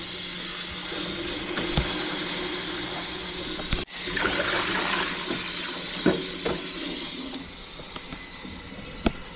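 Water drains from a plugged container full of sludge, giving a steady low gurgling hiss with a sharp knock midway and a few faint clicks along the way.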